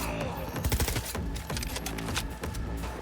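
Rapid, sharp shots crackle from a three-round burst weapon in the video game Cyberpunk 2077, firing in quick clustered volleys close up with no voices.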